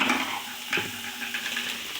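Onion, tomato and green chili tempering in a pan, with a soft continuous sizzle and occasional scraping stirs of a spoon against the metal, close and steady without talk.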